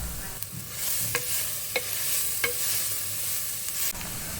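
Sliced medium onions sautéing in a pan for Kerala chicken curry hiss in a steady sizzle, while a spoon scrapes through them in a few evenly spaced strokes.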